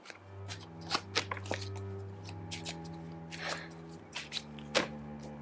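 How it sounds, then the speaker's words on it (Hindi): Tarot cards rustle, slide and flick as a deck is handled and cards are drawn, close and soft, with a steady low hum underneath. "ओके, मैं तीनों कार्ड्स ले लेती हूँ यहाँ पर।"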